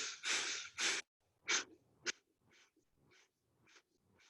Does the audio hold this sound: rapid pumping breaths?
yes